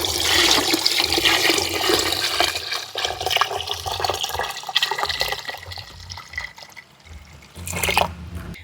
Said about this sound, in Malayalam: നമുക്ക് ബാക്കി വെള്ളം ഒഴിച്ച് കൊടുക്കാം